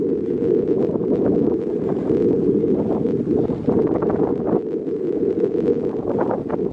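Steady wind buffets the microphone with a constant low roar while a cyclist rides uphill into a headwind on a country road, with a few faint rustling bumps and no speech.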